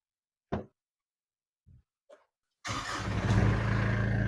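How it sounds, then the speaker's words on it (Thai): A Mitsubishi Strada 2.8 4WD diesel pickup is started after a few soft clicks and knocks, then settles into a loud, steady, rattly idle that stays near and continuous. "เดี๋ยวสตาร์ทเครื่องให้ฟังเสียงดีกว่า คันนี้เครื่องดีมาก"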